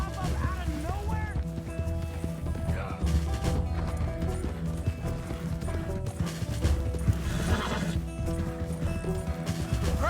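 Horse in the Red Dead Redemption 2 video game galloping with steady clip-clop hoofbeats and a brief whinny, buried in a dense, loud mix of game music and effects, with voices underneath.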